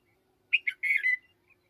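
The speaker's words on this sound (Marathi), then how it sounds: "आवाज ऐका वरती पक्षाचा" A short series of clear, high whistled bird calls, two quick notes followed by a longer warbling phrase, in otherwise quiet surroundings.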